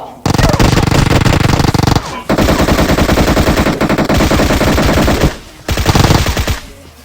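Long bursts of rapid automatic gunfire from a scoped scar rifle in Battlegrounds Mobile India ring out loud and close, separated by brief pauses, in three sustained strings.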